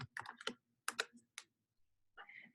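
Clacking keystrokes on a computer keyboard typing a label name in Gmail, quick irregular bursts of close taps separated by short pauses.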